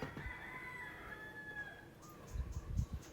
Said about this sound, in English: That's an obnoxious rooster in the neighborhood